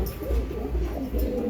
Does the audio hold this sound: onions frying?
no